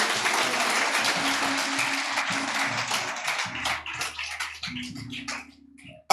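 Audience applause at a church lecture, a broad wash of clapping that starts full and thins out toward the end, with low hum and some faint voices underneath.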